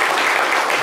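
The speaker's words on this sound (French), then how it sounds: "Et on peut applaudir pour les gens de Boaké." A short burst of dense audience clapping, steady and loud.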